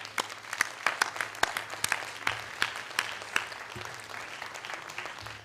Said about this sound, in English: So please join me in giving them a round of applause.